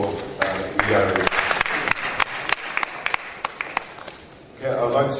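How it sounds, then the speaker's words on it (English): Scattered clapping from the audience at a business pitch event, with a handful of distinct sharp claps over murmuring voices, followed by a pause and then talk again. "A round of applause for Iyare."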